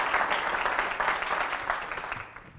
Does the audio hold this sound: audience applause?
yes